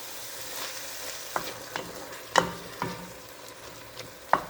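Ground beef for chili browns in a pan with a steady close sizzle, punctuated by several sharp scrapes and clacks as a utensil stirs the meat.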